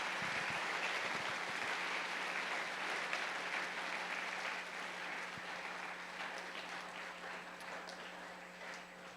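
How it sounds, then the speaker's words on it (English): A school chapel audience applauds steadily, a dense wash of clapping that holds for about nine seconds before easing slightly, with no voices over it. "So if you just want to give them a round of applause, and you can take a seat as well."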